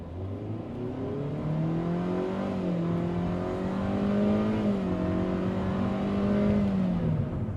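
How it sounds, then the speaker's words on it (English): A Hyundai Stargazer X with a 1.5L engine and IVT accelerates in sport mode, its engine note rising and holding a steady, strained hum from inside the cabin for several seconds. "So as you move forward, you will feel the car a bit going like taking off, lift off, which is natural."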